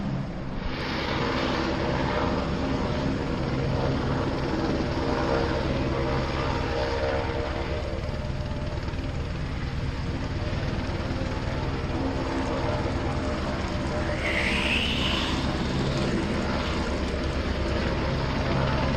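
A steady, loud engine drone with a broad rushing roar, continuous throughout, like a helicopter in flight heard from nearby.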